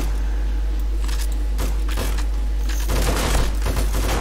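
Landmines blowing up under zombies during a Blood Moon horde night in 7 Days to Die, several booming blasts and rumbling impacts over a constant deep drone, heaviest near the end.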